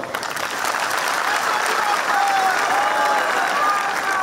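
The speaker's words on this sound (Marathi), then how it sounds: "त्या गाडगिळी साहेबांसाठी टाळ्या वाजवा" An audience at a political speech by a politician breaks into sustained, dense clapping that holds steady and loud for several seconds, with a faint whistle cutting through the applause.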